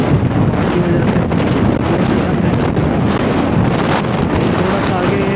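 Strong wind buffets a motorbike rider on a mountain road between Lahore and Chitral, a continuous loud roaring rumble with gusting swells across the whole stretch and no clear speech.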